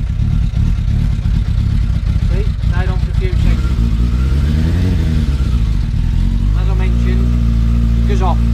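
A Japanese motorcycle engine, just after an oil and filter change, starts and then idles with a loud, steady low rumble while someone talks over it.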